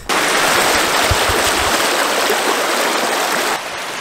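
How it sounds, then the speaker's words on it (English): A creek beside a hiking path on Ringvassøya, Norway, rushes loud and close in a continuous, even wash of water, with no one speaking. "These creeks are nice."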